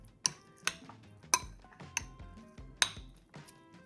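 A spoon mixes tuna and avocado in a bowl, giving a series of close, irregular clinks and knocks against the bowl with soft scraping between strikes.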